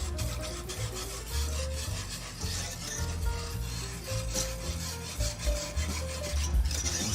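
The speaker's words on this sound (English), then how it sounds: "I'm using that wire whisk here" Wire whisk scraping and rubbing steadily through meatball ingredients in a bowl, a close, continuous gritty stirring sound with no voices.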